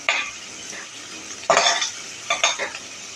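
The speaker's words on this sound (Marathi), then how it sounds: "आपला कांदा बऱ्यापैकी बावलेला आहे." Onion softened in a pan for a spicy cluster-bean stir-fry is sautéed with a few loud, close scraping strokes of a spoon over a low, steady sizzle.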